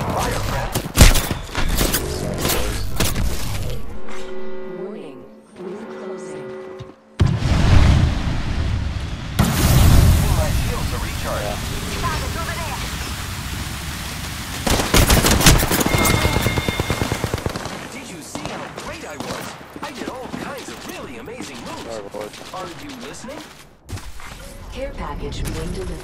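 Gunfire in a battle royale video game, with bursts of automatic shots and heavy booms spread across the stretch, some close and loud, along with in-game voice lines and talk over the top.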